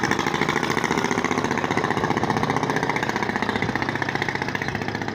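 Diesel engine of a passenger ferry launch at a riverside landing, a loud continuous chugging throb with fast regular pulses, close and steady throughout.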